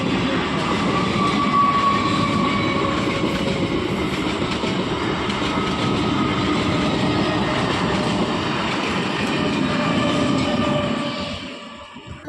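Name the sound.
train passing by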